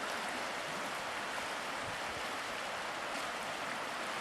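Continuous broadband rush of a flowing creek, steady and fairly faint, with no voices.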